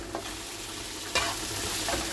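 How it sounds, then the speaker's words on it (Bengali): Celery fries in a pan while being stirred, with a steady background sizzle broken by a few sharp scraping stir strokes, close and moderately loud, with no talking. "আর এইদিকে আমার ভাজা ভাজাটা এখনো হচ্ছে।"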